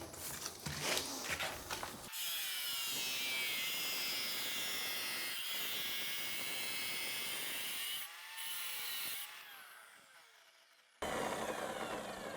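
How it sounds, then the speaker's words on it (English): A professional tile saw cuts through floor tile during a repair beside a newly installed tub, its loud steady whine running for several seconds, dipping as the blade works, then spinning down and briefly restarting. "having a professional saw makes a world of difference"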